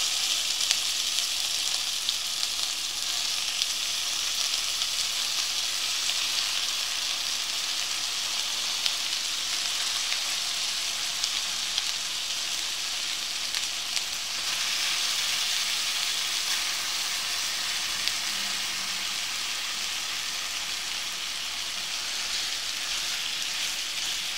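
Marinated beef for a Hyderabadi dum beef curry hissing in a hot pot, a steady, dense sizzle that holds evenly close up for the whole stretch with no talking.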